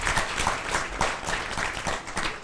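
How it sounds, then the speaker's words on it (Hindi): Applause from a gathered audience at a spiritual assembly in India, steady dense clapping filling the short stretch with little else audible. "एक बार ज़ोरदार तालियां इनके लिए।"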